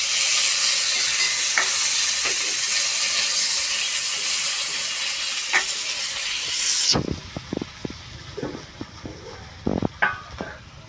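Green chillies for thecha sizzle and fry loudly in hot oil, a dense steady hiss that drops off sharply partway through, leaving quieter crackles and a few clinks of stirring.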